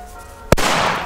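A single sharp firecracker bang, close and loud, during New Year's Eve fireworks, followed by a rushing hiss of noise that trails on.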